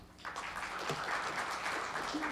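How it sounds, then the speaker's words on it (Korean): Applause from a conference audience at a smart TV industry summit session, a steady patter of many hands filling the room for a couple of seconds after a presentation. "큰 박수 부탁드립니다"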